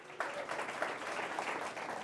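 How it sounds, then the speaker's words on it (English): Audience applause after a tribute to a Thorns Academy player, a brief, fairly faint patter of clapping hands heard at a distance. "Let's give a round of applause for that."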